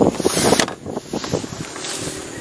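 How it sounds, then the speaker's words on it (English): A motorized dugout canoe on Naujan Lake runs with a steady engine drone amid wind noise and water rush, loud and close throughout. "In a dugout motorized canoe."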